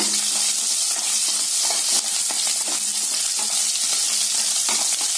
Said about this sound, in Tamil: சேர்த்து நல்லா இந்த ஆயில வதக்கி விட்டுக்கலாங்க